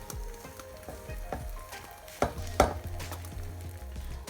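An egg and tortilla wrap cooks in a pan with a gentle sizzle, broken by a few sharp knocks and scrapes of a utensil against the pan.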